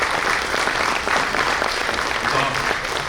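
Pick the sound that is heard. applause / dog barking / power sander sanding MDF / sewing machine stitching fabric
applause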